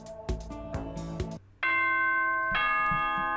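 Two-tone doorbell chime in the Danganronpa video game, a clear ringing ding then dong after some short percussive hits, loud and close.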